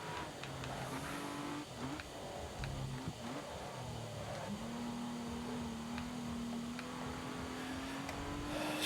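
Race car engine in the racing game Grid Autosport, a steady high-revving drone with pitch climbing and dropping through gear shifts, plus faint tire squeal, loud and continuous with no talk.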